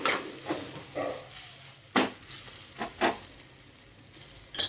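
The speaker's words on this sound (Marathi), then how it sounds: "हलवून घेते सर्व." Green chillies fry in a pan with a soft, steady sizzle, broken by several sharp scraping stirs of a spoon against the pan, heard up close.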